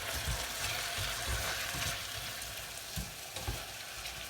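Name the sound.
tiger prawns frying in pan with chorizo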